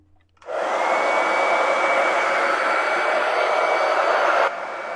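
A hair dryer switches on abruptly and blows a steady, loud, close whoosh over a wet watercolor paint layer, then drops to a lower setting near the end.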